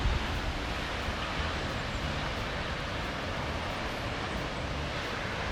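Kegon Falls waterfall in Nikko, Japan, a broad, steady roar of rushing, crashing water, dense and unbroken throughout, heard from a viewing spot.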